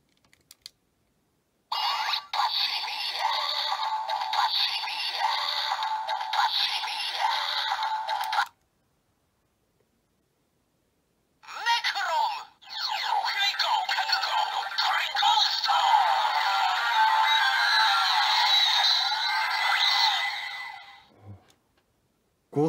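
A Kamen Rider Ghost DX Mega Ulorder transformation toy plays electronic voice sounds with music in two loud bursts, separated by a few seconds of silence.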